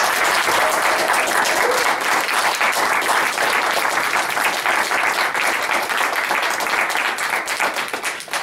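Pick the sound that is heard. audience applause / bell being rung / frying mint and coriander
audience applause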